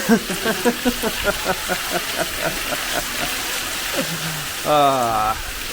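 Steady rain hisses throughout while people talk and sing rhythmically over it, with a louder voice rising near the end.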